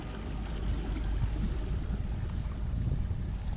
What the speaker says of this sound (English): that brushless motor, you can run it that way all day long